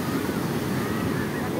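Ocean waves wash onto a beach at Mariveles, Bataan, a steady broadband roar mixed with wind noise, with people chatting over the surf.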